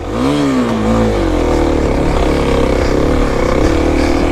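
A Kawasaki KLX300 dirt bike engine revs hard climbing an off-road hill, loud and close, its pitch rising and shifting as the rider works the throttle, with no talk over it.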